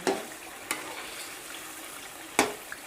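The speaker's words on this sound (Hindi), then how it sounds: "तो ये आ गई हमारी पालक, जो हमने पालक का पेस्ट बनाया था। अब हम इसको फ्राई करेंगे।" Spinach paste for aloo palak fries in a pan with a quiet, steady sizzle, broken by a few sharp clacks of stirring.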